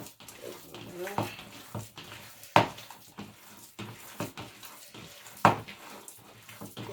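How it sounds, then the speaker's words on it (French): Meatball mixture being worked and squeezed by hand in a bowl, soaked bread crushed into it, giving soft wet squelches and a few sharper slaps, close by, with occasional talk over the mixing. "Bien mélanger, écraser les pains, écraser bien le pain dedans"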